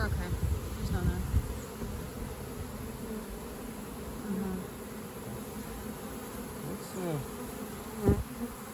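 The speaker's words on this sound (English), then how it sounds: "I don't want to crush any bees." Dense, steady buzzing of a honeybee swarm being moved from a swarm trap, close and continuous throughout, with brief quiet talk over it.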